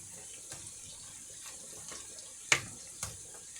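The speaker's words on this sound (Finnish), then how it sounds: "mä lisään sinne vielä nyt vähän vettä" Water running from a tap into a pot of traditional Finnish cabbage soup, a quiet steady pour with a couple of brief splashy clinks, no talk.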